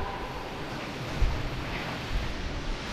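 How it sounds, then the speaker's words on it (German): A mountain stream rushes along a mountain-bike trail in the Valais Alps at Aletsch Arena. It makes a continuous broadband roar with a couple of brief surges, and no voices are heard. "Viel Wasser."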